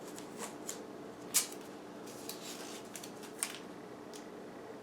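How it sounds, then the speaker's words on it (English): Strips of tape being pulled and pressed onto a wooden drawer front, heard as soft, close rustles with a couple of sharper peeling crackles against a quiet room. "We're going to put two pieces of tape on there just like this."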